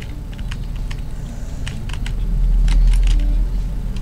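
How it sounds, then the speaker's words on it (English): Keyboard typing during a Roblox gaming session, scattered sharp clicks in small bursts over a low rumbling background that swells in the middle, moderately close and without talk. "why are you typing even though you're next to me?"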